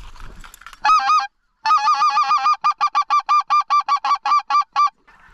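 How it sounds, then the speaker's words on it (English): Geese honk loudly and close by from a hunting blind in Alberta, a few separate calls and then a fast, even run of repeated honks. "Look at the geese"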